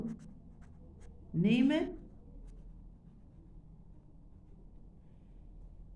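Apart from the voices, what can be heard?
writing with a pen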